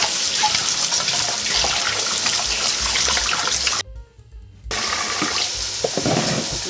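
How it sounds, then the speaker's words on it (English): Tap water running steadily into a sink with splashing as raw meat is rinsed, briefly cutting out for a moment before resuming. "So I'm just going to quickly wash the meat."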